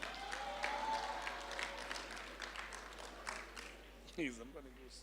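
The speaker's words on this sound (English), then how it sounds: "let's give Mr. Ngokwana a big round of applause" An audience applauds Mr. Ngokwana at a 2022 choral event; dense, steady clapping fills the hall while voices carry over it, and a brief louder exclamation rises near the end.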